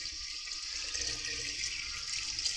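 Tap water runs steadily into a pot holding eggs, a continuous bright splashing rush at moderate level with no talking.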